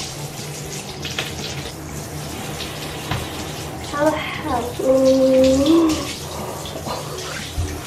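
Tap water runs at home while bleached hair is rinsed, a steady spray that grows louder and splashier midway, with brief remarks spoken over the flow.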